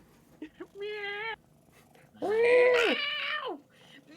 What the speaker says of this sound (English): Randomly on stream, he pulls out a cat and starts yelling.